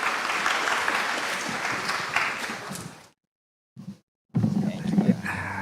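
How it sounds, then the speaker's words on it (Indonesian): Audience applause welcoming the BYD HK Auto CEO at a speaking event: a few seconds of dense crowd clapping, then a sudden cut to silence, a brief burst, and more sound with a voice. "Mari kita beri tepuk tangan"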